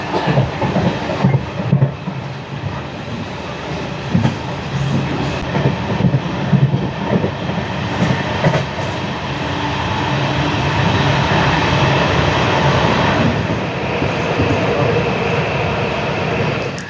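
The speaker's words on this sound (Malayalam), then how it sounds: "അങ്ങനെ ട്രെയിൻ ഒന്ന് സ്ലോ ആയിട്ടുണ്ട്" Amrita Express passenger train rolls along in a loud, steady rumble with clickety-clack rhythm, heard from inside a sleeper coach, gradually easing as it slows toward a station.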